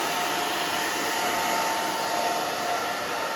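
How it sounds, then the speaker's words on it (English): Hair dryer blowing steadily on a short spiky pixie cut, a loud continuous close whooshing roar with no breaks and no voices. "Make sure you move your hand as you dry."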